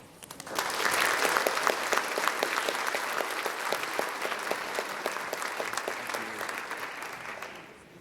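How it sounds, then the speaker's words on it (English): Sustained, steady applause from a conference audience welcoming speakers, a dense even wash of many hands clapping for about seven seconds before tapering off. "I would like you to give a huge round of applause for Alma and Mihai."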